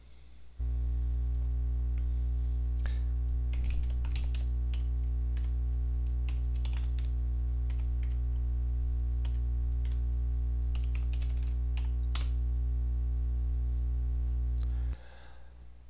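Fingers type on a computer keyboard, producing scattered light key clicks at an irregular pace over a constant low electrical hum, with no speech.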